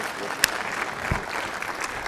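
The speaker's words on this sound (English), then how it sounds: "give George a round of applause as he sits down" A fairly soft, scattered round of applause rises from the audience at the Safaricom Engineering Summit as George returns to his seat, with a sharp knock or clink early on and a low thud partway through.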